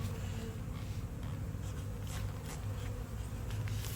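Dense, steady buzzing of many honeybees in a hive during an inspection, a continuous close drone with no voices.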